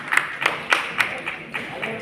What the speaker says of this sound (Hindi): तालियां बजती रहनी चाहिए, रुकनी नहीं चाहिए।